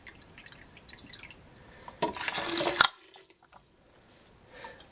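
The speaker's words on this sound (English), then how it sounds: "I'm also going to be adding now 4 cups of water to this." Filtered water from a Brita pitcher pours into an Oster Versa blender in a short, loud splashing burst that stops abruptly, framed by quiet kitchen drips.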